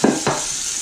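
Pork chops sizzle in a hot, oiled pan, with two quick clatters at the start before a steady close hiss fills the rest of the brief moment.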